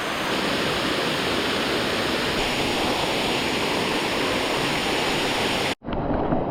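A waterfall in Ubud, Bali pours in a loud, steady broadband roar without letup, close and dense, cutting off abruptly just before the end.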